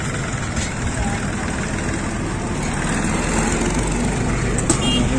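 A vehicle engine running at a steady low rumble while gears are being shifted, close and continuous, with a voice talking over it.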